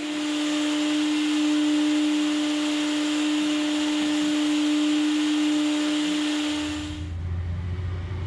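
A vacuum cleaner runs steadily on a hardwood floor during refinishing cleanup, giving a loud, constant whining drone with a steady hum that cuts off near the end and leaves quieter low rumble.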